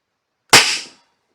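A homemade 12-gauge rubber slug fired from a 9mm PAK blank pistol gives one sharp, near report that decays over about half a second, with no voices.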